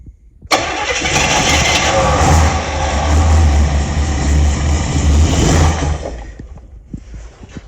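A Chevy Monte Carlo SS engine with a choke that is not setting fires up close and loud. It runs with a heavy, steady roar for about five seconds before the sound drops away.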